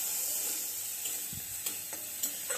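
Prawns frying in a pan until reddish for a tomato sour dish, giving a steady, close sizzling hiss broken by a few light clicks and scrapes of stirring.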